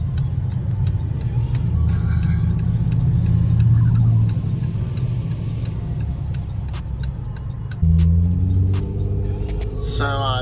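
A Jeep JKU with the 3.6L engine and a Dynomax Ultra Flo cat-back exhaust rumbles and revs as it drives away, a deep steady drone that swells and then eases, with a second engine surge near the end and people talking over it.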